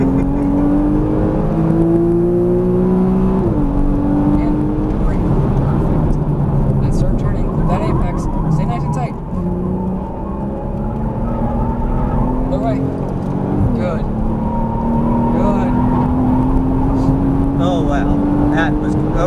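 A Porsche Cayman S drives on a track, its engine droning steadily and rising in pitch as it accelerates, with gear changes audible, heard from inside the car.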